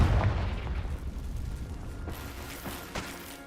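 Confringo fire spell explosion in the Hogwarts Legacy video game: a dull booming blast at the start, rumbling on, then a second bright crackling burst about two seconds in, over steady background game sound.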